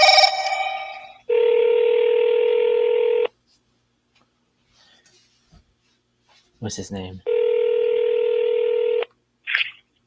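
A telephone on a live sales call gives long steady electronic tones with a quiet gap between them, and a voice speaks briefly in the gap.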